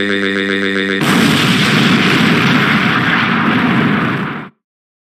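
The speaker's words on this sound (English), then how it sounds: "It's time for another generic explosion." A generic cartoonish explosion sound effect bursts in after a brief tonal electronic hum, then roars as a loud, sustained blast of noise for about three and a half seconds before cutting off abruptly into silence.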